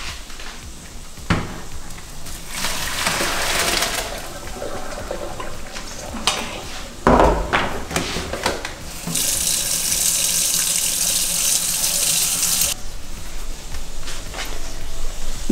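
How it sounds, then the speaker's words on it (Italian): Water pours steadily as cooked fusilli are drained through a colander in a kitchen sink, a loud continuous rush with splashing that swells into a heavier, brighter gush partway through. "Prendiamo uno scolapasta e scolliamo"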